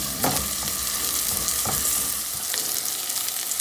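Onions sauté in hot oil in a pan, giving a loud continuous sizzle with a few stirring clatters early on and a slight easing toward the end.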